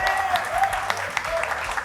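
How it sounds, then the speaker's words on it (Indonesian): A studio audience applauds an introduction of Erick Thohir during an Indonesian football talk show, a steady mid-level patter of many hands lasting a couple of seconds with a faint voice or tone running underneath. "Tepuk tangan."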